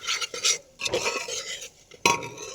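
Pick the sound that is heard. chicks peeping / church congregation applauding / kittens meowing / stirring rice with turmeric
stirring rice with turmeric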